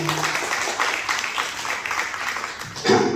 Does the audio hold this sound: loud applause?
yes